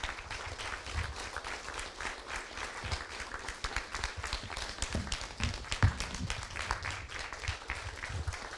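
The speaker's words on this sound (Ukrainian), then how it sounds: "І ці оплески вам і пані Ларисі" An audience applauds after a speech about loss and love, with a steady wash of many hands clapping, fairly faint and distant, continuing for the whole stretch.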